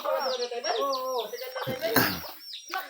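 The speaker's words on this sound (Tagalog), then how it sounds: "Kulungan ng manok ng utol ko." Chickens in a coop at a simple provincial home give a run of short, close clucking calls and squawks, with a brief rustle near the end.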